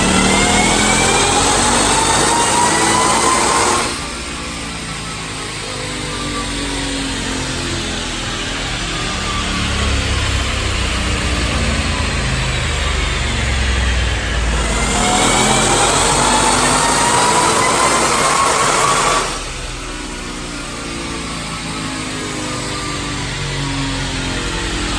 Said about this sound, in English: Watch these 2 back-to-back dyno pulls.